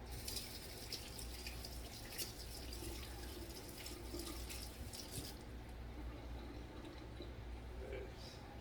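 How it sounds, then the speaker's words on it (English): A kitchen tap runs steadily while hands are washed, a faint continuous rush of water with soft splashing that stays even throughout, distant and quiet. "I'm going to wash my hands again."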